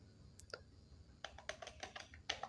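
Computer keyboard typing a terminal install command, a few scattered keystrokes and then a quicker run of crisp clicks, close and quiet with no voice.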